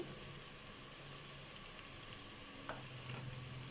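Steady, soft sizzling of ginger garlic paste frying in a hot pan, a continuous crackle with faint stirring scrapes and no voices.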